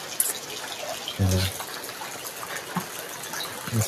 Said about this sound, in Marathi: काय पाऊस पडतोय बेकार